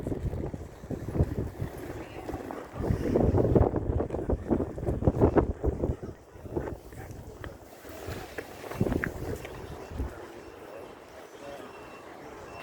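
Strong gusting wind buffets the microphone at Whitby harbour on a cold seaside day, rumbling and roaring in uneven surges with a voice faintly underneath.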